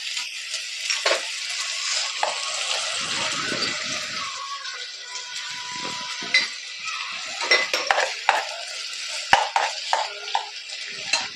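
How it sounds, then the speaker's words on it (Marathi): Onion being sautéed in a pan for Hyderabadi chicken, with a steady soft sizzle broken by repeated close scrapes and clinks of a spoon stirring against the metal pan. "कांदा थोडा परतून घेऊया"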